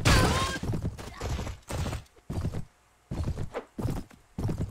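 A horse gallops in the video game Mount and Blade Warband, its hoofbeats coming in loud rhythmic bursts separated by brief quiet gaps, with a short whinny near the start.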